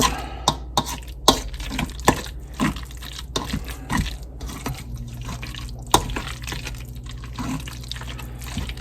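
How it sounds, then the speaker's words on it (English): A spoon stirs seafood casserole dip ingredients in a bowl, giving a run of sharp, irregular clicks and wet scrapes at close range over a quiet background, with no talking. "Mix this together"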